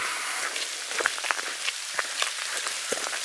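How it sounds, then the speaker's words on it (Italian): Rain begins falling in the woods near the Salton waterfall, a steady hiss with scattered close drips tapping on surfaces. "Ha iniziato a piovere."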